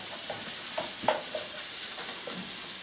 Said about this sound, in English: now the sausage coming along nicely